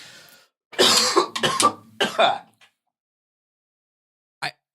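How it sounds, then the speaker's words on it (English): Several harsh coughs in a quick cluster, close and fairly loud, followed by a pause and one final short cough. "I'm going to have to figure out how to edit out these coughs"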